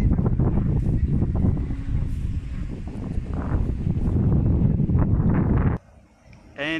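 Wind buffets a smartphone microphone outdoors in New York, a loud continuous rumbling roar that drops away abruptly near the end, with some speech partly buried in the noise.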